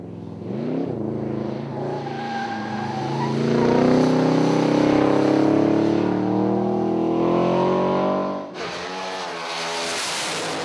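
A classic Corvette V8 engine revs and accelerates loudly on a race track, pitch climbing through gears, then drops off before another engine note cuts in.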